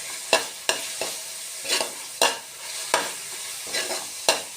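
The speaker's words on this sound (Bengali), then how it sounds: "ভালো করে ভেজে নেব।" Fenugreek and spinach being stirred and fried in a pan, with a spoon scraping and clattering in irregular strokes about every half second to second over a steady soft sizzle, close and fairly loud.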